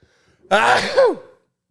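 A single loud, close sneeze with a quick inhaled buildup and a sharp burst, then silence.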